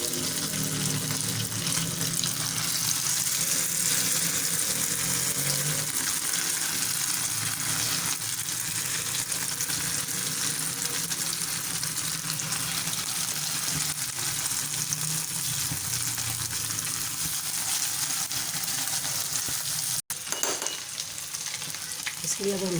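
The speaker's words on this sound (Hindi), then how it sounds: "अब हम इसमें फिर कबाब अपने ऐड करते हैं घी में। घी हमारा बहुत ज़्यादा गर्म हो चुका है।" Shami kebabs fry in very hot ghee with a loud, steady sizzle and crackle that goes on without a break, shifting slightly near the end.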